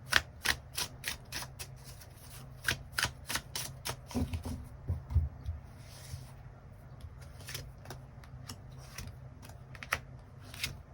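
Tarot cards being shuffled and drawn: a steady run of crisp, close riffling snaps and slides, repeated in quick bursts with short pauses, alone with no talk.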